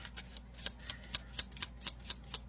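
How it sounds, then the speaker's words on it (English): Playing cards being pushed out of a deck during a shuffle, giving about ten short crisp riffling flicks in a steady rhythm, close and fairly quiet, with no speech. "I just shoved 2 more cards out."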